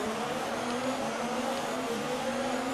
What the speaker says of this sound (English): building up the revs to the 5 red lights